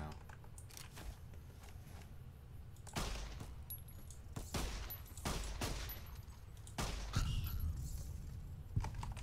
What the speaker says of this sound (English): Why am I wasting rounds on rats?